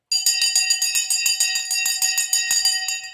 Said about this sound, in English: Let's get ready to ring the bell.